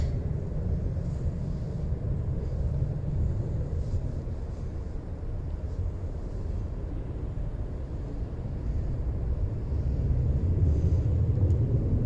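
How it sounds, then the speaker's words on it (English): A steady low rumbling drone of helicopters overhead in Washington, DC fills the air continuously, with a slight swell toward the end and no voices. "there's always helicopters flying everywhere"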